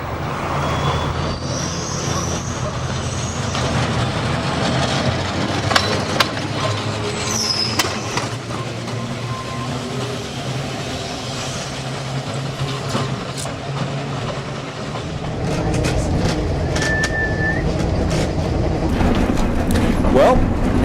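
A Manx Electric Railway tram rumbles along with a steady low drone, wheels clattering and squealing briefly; a voice talks over the ride noise at times.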